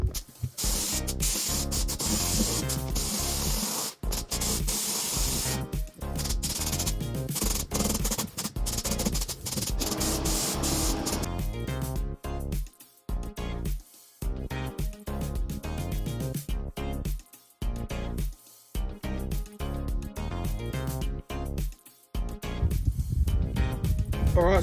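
Spray can of heat-resistant chassis paint coating an old buggy chassis, long continuous loud hissing bursts with brief pauses between passes, close up and with no talk.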